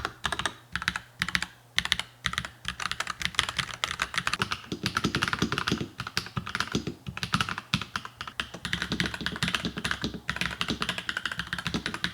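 Rapid, steady typing on a NuPhy Halo 96 mechanical keyboard, close up, with crisp clacky keystrokes running continuously and no voices.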